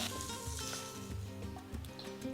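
Beef pieces searing in hot oil for a Spanish-style paprika beef stew, a steady close sizzle and crackle running continuously with no talk over it.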